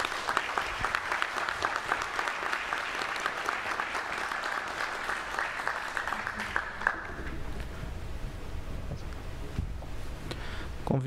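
Sustained audience applause fills a graduation ceremony hall at PUC-Campinas, steady and dense for about seven seconds before thinning out into scattered claps and room noise.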